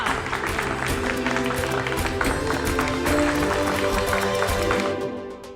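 Loud, sustained applause for the village sarpanch grandmother at a contest gathering, dense clapping with music and voices mixed in, steady throughout before fading at the end.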